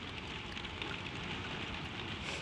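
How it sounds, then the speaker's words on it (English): Rain patters on a slate roof just overhead in a close, steady wash of drops with no voices. "The rain falls on the slates above you, a handbreadth above you, and you warm beneath."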